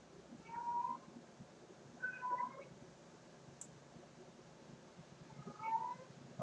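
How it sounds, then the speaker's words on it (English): Pet tabby and tuxedo cats give three short, fairly quiet meows spread over several seconds, with a faint click and low room noise between them. "My tuxedo cat's being really timid, my tabby cat's being really wild."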